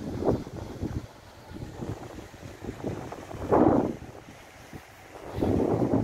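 Wind blowing cold in Appingedam, Groningen, Netherlands, buffets the microphone in uneven gusts, with rumbling bursts rising and fading over a steady outdoor background.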